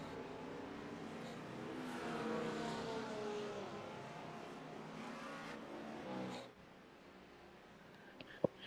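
A BMW GTP prototype race car at Sebring drones past at a distance, its engine a steady muffled roar that fades out after about six seconds, leaving quiet background with a couple of faint ticks.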